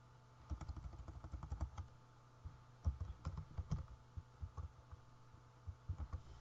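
Keys on a computer keyboard clatter in quick, irregular bursts of close, soft clicks with short pauses between them over a faint steady hum.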